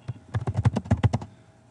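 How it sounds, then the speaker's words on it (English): Fast, close typing on a computer keyboard, about a dozen crisp key taps in a quick burst that then stops. "this is a simple matter of typing like you would in a word processor"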